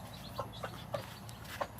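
Laying ducks in a pen cluster around feed, giving a few soft, scattered quacks and clucking calls at a moderate distance over low background noise.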